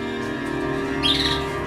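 Pet birds chirp and squawk in short, bright bursts, close by over a constant background hum.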